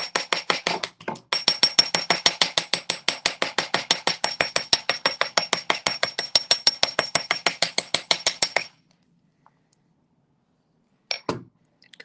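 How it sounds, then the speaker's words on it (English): Flat face of a hammer striking wire on a hard metal surface while shaping an oval beading loop, giving a long, fast, steady run of loud, close, ringing metallic taps that stops, followed by a few scattered knocks. "So I'm going to start with my flat end of my hammer."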